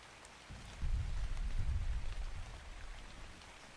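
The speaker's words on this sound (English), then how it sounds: "I love watching the rain splash off of my character as I'm flying around" Rain pattering and splashing in Ark Survival Ascended on the Ragnarok map, steady and moderately close, swelling after a brief quiet start with a soft low rumble beneath and no talking.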